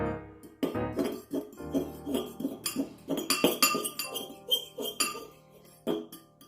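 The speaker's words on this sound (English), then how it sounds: "now we need you to mix and mix and mix and mix. With your fork." A fork clinks and scrapes against a bowl while mixing spinach and egg, producing quick, uneven bursts of metallic taps and clatter in a close, busy rhythm with short pauses between strokes.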